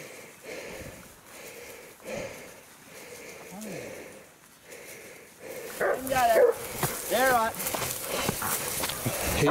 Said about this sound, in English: The dogs are off again and we waited for the hit up.